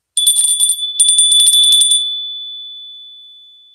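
A handheld bell struck twice in quick succession, bright and close with a sharp metallic ring, then left to sustain a clear single tone that fades slowly to silence.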